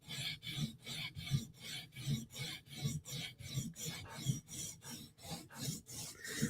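Knife sharpening on a Spyderco blade, steady rhythmic rasping strokes about two per second, close and evenly paced, with no talking.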